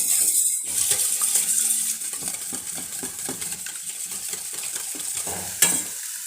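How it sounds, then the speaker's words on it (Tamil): Eggs for a spicy bread omelette beaten in a bowl, a rapid run of close, light clinks and taps of utensil against the bowl, with one sharper knock near the end. "இப்போ முட்டையை அடிச்சுக்குவோம்."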